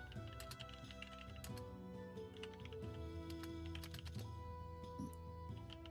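Keyboard typing runs steadily throughout, a dense stream of quick clicks and key taps close up over a musical background.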